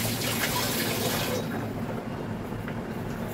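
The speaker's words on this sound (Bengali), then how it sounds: "এটা আমি একটু জল ঝরিয়ে নিই, জলটা ঝরিয়ে নিই" Boiled bottle gourd greens and potatoes being drained, with water rushing and splashing steadily and loudly throughout, close by, with a brief shift in the flow partway through.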